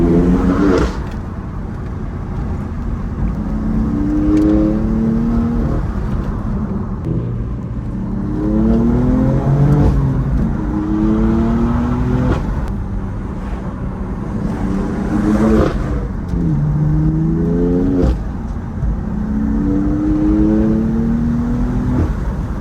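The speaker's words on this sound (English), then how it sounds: "driving this thing is a freaking blast" A BMW M4 fitted with LCI headlights accelerates hard while driving, its engine note rising and falling through repeated surges, loud and close, with no talking over it.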